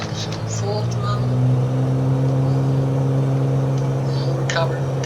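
Aircraft engine at full throttle in Microsoft Flight Simulator, a steady loud droning hum with a low tonal whine held throughout, a few faint clicks and tones over it, no speech.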